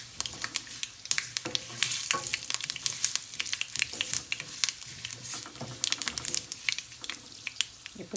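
Urad dal fries in oil in a pan while making pepper water rasam, producing a soft, crackly sizzle with irregular popping spatters, fairly quiet and without speech.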